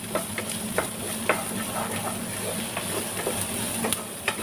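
Onion sautéing over high heat in a pan for Mangalore chicken curry: a steady frying sizzle with repeated scraping stir strokes, close and fairly loud, no voices.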